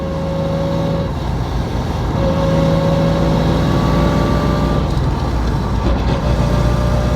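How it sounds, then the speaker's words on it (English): Differential whine from an LS-swapped 1987 Mazda RX-7 drift car cruising at freeway speed, a tonal gear whine rising and falling over loud, constant engine and road drone inside the cabin. "Now that we're on a freeway speed, you can literally hear the diff lighting and going out."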